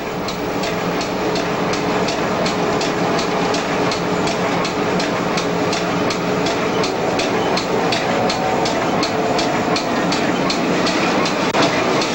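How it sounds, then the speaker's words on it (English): A Newfoundland Railway freight, Extra 944 East, rolls across the 927-foot Exploits River bridge at Bishop's Falls, with a loud, steady rumble and evenly spaced clickety-clack beats of wheels on rail joints throughout. "Extra 944 East departs Bishop's Falls and crosses the Exploits River"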